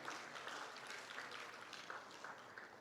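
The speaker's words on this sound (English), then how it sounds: "A big round of applause for our panel," An audience applauds a conference panel on intelligent factories, a steady wash of many hands clapping, fairly distant and soft, with no voices above it.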